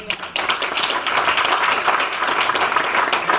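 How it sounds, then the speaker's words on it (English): A neighborhood meeting audience gives a round of applause for regional park volunteers, steady, moderately loud clapping from many hands that continues for a few seconds. "Please give them a round of applause."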